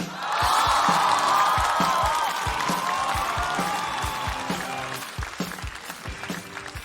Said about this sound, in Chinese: 掌声欢迎几鹏！